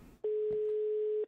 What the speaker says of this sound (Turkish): Alina'nın telefonu burada bir yerde çalıyor ama.